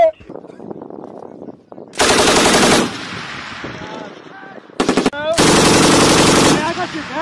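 Loud, rapid machine gun bursts ring out during a live-fire military training exercise: a short burst, then a longer sustained one a few seconds later. Shouted commands come in between.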